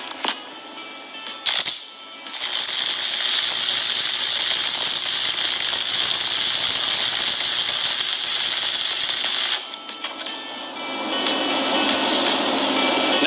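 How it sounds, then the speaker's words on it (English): A stick welding arc with the electrode rod melting metal into an even molten pool, a loud steady crackling buzz that starts after a brief strike, holds for about eight seconds, stops, then resumes. "After striking the arc, I create a nice, even pool of molten metal."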